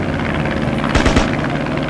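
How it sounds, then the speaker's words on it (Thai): A propeller aircraft engine from the World War I shooter Battlefield 1 drones loudly and steadily, with a brief louder surge near the middle as the plane passes. "เครื่องบินก็มีสองลำเครื่องบินก็จะเล่นยากหน่อยนะครับ"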